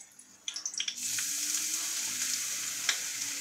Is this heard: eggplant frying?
yes